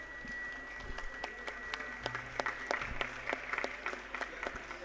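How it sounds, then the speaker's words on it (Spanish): Scattered hand claps from a small audience after a talk on birds and fungi, sparse and fairly faint, without voices. "le damos un fuerte aplauso"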